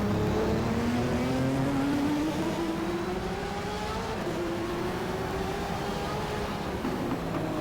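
A 1990 Formula One V12 engine, 65-degree V angle, in the racing game GTR2 at Mid-Ohio, droning steadily with a rising, shifting pitch as it accelerates through gears, loud and continuous with no talk.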